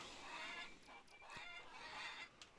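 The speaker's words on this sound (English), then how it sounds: "Happy chickens." Faint, soft clucking from a few chickens in the farming game Farmers Dynasty, murmuring continuously with occasional sharper cackles, quiet and without any speech.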